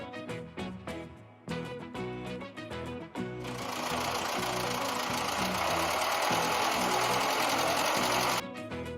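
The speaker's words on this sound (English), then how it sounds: "Tractor." Tractor engine running with a steady, loud, continuous rumble, preceded by a few seconds of plucked musical notes and stopping abruptly near the end.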